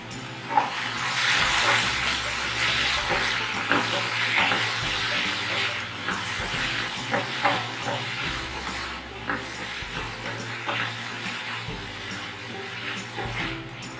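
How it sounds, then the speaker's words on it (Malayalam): Green chilies and ginger-garlic paste sauté in a pan with a steady, close sizzle and hiss, broken by light scraping and stirring noises. "ഇതും കൂടെ നമുക്ക് ഇതിലേക്ക് ഇട്ട് കൊടുക്കാം. ഒരുമിച്ച് വഴറ്റിയെടുത്താൽ മതി."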